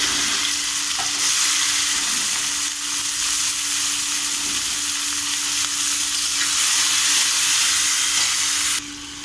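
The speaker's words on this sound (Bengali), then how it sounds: "লঙ্কাটা লাল লাল হয়ে গেলে আমি বটবটিগুলো আগে ভেজে নেব" Yardlong beans frying in hot oil in a wok give a loud, continuous, close sizzle that holds steady for about nine seconds and cuts off near the end, with no voices.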